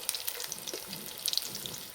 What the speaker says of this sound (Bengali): তাহলে ভিতরকার ডিমটা খুব সুন্দর ভাজা হবে।